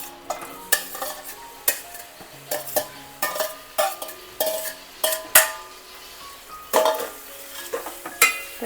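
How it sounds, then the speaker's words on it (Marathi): Two onions drop into hot oil for an Alibag-style kaleji fry, a steady sizzle running underneath while a metal spoon clinks and scrapes against the pan in repeated sharp strikes, close and without talk. "तेल गरम झालेलं आहे त्यामध्ये दोन कांदे टाकायचे"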